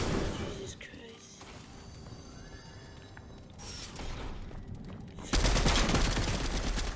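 Gunfire in the Fortnite video game, a shotgun among it, with bursts and shots through a busy game mix and a loud blast near the end, under faint talk.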